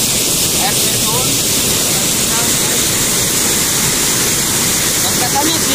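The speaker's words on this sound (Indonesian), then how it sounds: "kita coba melihat situasi keadaan yang ada di sekitaran air terjun" The Arter Batunangan waterfall in Sidodadi pours with a loud, constant roar heard from close by. The dense rushing water fills the whole stretch without a break.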